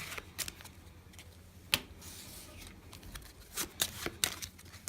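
Playing cards are shuffled in several quick, crisp riffles and snaps, close and fairly quiet, with no talking.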